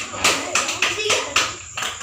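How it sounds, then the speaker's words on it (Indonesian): Children in a classroom clap in a patterned rhythm, with several sharp, close bursts of group claps broken by short pauses, while young voices chatter between them. "Iya, tepuk tangan pintar."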